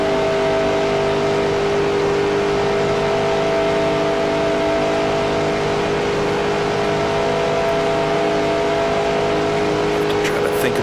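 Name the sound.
race car engine revving in NASCAR Racing 2003 video game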